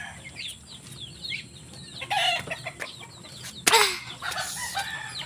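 Farm fowl, called ducks, make short chirpy calls and louder squawking bursts near the camera, with one loud honk-like call standing out partway through.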